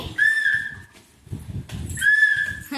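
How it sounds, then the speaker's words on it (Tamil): A child whistles two clear, high, sustained notes, one at the start and one near the end, with quieter shuffling and indistinct sounds between them. "விசில் அடிக்கிறா"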